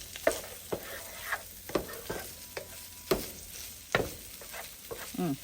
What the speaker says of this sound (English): go ahead and stir that up really well